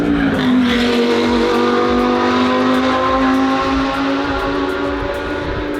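Race cars on a circuit, a loud, continuous engine roar with a steady rising tone, close by and sustained throughout without speech.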